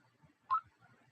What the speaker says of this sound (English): I'll also let you hear what it sounds like when it starts up.